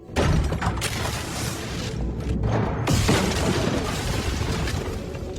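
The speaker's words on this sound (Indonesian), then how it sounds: "kenapa base camp itu sampai bisa meledak" A base camp blows up in an action film, with a sudden loud blast followed by dense crashing and rumbling debris that continues heavily for several seconds, with no voices.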